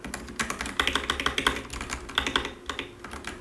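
Rapid clattering keystrokes come from a computer keyboard along with a few mouse clicks, close and clear in quick uneven bursts, with no voices.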